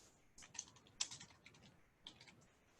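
Computer keys tapped in a short burst of quick, light clicks, close and fairly quiet, with a pause before a few more taps toward the end.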